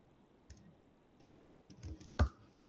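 A few quiet, scattered keystrokes on a computer keyboard while git commands are entered, ending in a slightly louder single key press, with near silence between them.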